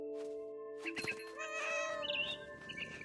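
A cat meows a couple of times in the video game What Remains of Edith Finch, over a soft, steady synthetic musical tone, fairly close and clear.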